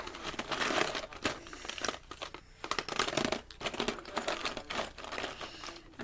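Crinkling of a miniature Planters cheese balls package, a steady, fairly close rustle of thin plastic packaging with brief pauses, continuing for several seconds with no talk.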